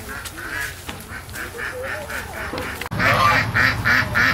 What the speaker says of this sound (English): And we're back to the ducks.